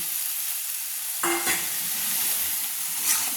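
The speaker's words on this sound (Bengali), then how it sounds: "দিয়ে নেড়ে নিচ্ছি। একটু ভালো করে কষিয়ে নিচ্ছি।" Cut potatoes stirred and fried in a pan for a Bengali prawn malai curry, with a steady background sizzle broken by a few spatula scrapes and clinks, no one talking.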